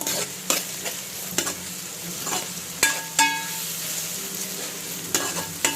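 Curry leaves dropped into hot oil in a pan of browned onions and ginger-garlic paste for a Thalakai sheruva curry, with sharp crackling sizzle bursts over a steady frying hiss and occasional stirring scrapes, close and without talk.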